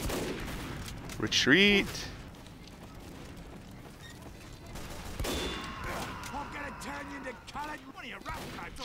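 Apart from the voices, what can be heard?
gunfire in a video game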